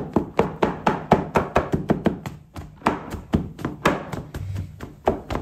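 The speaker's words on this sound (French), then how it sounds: "Et là, on va venir hacher les petites boules." A cup edge chops balls of puttu dough, a rapid series of close, sharp thunks on a hard surface, fairly regular, about four per second.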